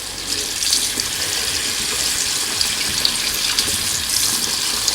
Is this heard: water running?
yes